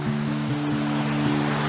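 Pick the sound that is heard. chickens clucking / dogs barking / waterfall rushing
waterfall rushing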